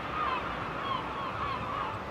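Seagull calls ring out in a short series of harsh, nasal cries over a soft seaside background, several calls close together across two seconds.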